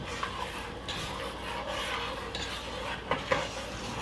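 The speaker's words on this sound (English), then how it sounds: "I'm gonna stir that in until it dissolves." A spoon stirring sugar into hot juice in a pot, giving a steady scraping swish over a continuous hiss of heat, with a couple of light clinks against the pan near the end.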